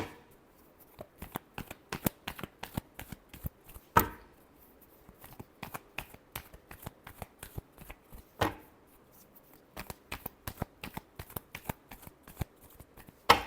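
Tarot cards shuffled up close in a long run of quick, crisp riffles and slaps, with a few louder snaps of the deck. No one speaks.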